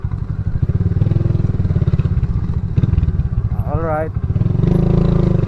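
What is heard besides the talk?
motorcycle riding on a trail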